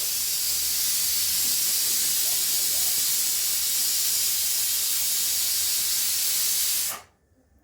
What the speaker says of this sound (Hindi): और कुकर में सीटी आने वाली है